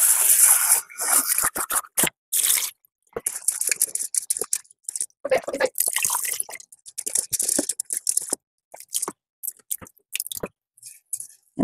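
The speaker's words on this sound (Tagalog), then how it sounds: "Hugasan mo lang to tapos ibababad sa tubig para madali na lang siya lutuin." Vegetables and black beans being rinsed in water while preparing rice, with wet squishing, dripping and rubbing sounds coming in short irregular bursts close up and no talking.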